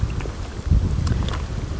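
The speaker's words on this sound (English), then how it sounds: "this wind's getting up quite strong now" Strong wind blows across open water at a river fishing match, rumbling and buffeting the microphone steadily throughout the short stretch, with no speech.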